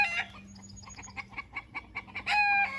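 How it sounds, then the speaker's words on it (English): Chickens cluck in a quick series of short, fairly close calls, with a louder squawking burst near the end over a low steady hum. "it sounds like the chickens are making a racket"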